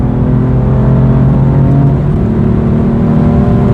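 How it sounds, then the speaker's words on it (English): BMW M4 Competition pulling hard on a highway, a loud close engine drone rising steadily in pitch with road and wind roar underneath, no talking. "Oh my God, this car just keeps pulling and pulling."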